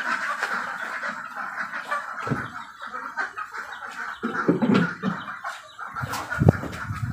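A chicken sick with coryza clucks in short, irregular bursts, close by. Scattered soft thumps and rustling break up the clucking, with a few louder knocks near the end.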